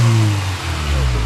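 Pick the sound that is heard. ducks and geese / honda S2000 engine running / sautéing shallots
honda S2000 engine running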